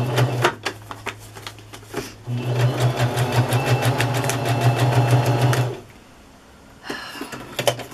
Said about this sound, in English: let's finish sewing this together. Sewing it on to the page.